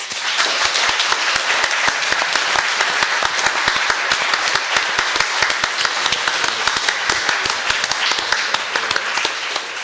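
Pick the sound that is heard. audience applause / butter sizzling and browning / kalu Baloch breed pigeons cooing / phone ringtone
audience applause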